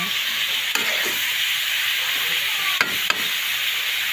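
Pork liver cooking with string beans in a pan, a steady loud sizzle and hiss throughout with a few sharp clicks of a utensil against the pan.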